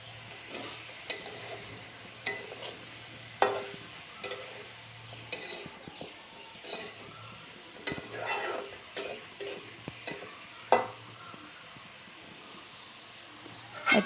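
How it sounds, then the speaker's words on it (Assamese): A fish curry being stirred in a pot, with scattered scraping and clinking of a spoon against metal, some soft bubbling between strokes, and no talking. "অকণমান লৰাই দিম"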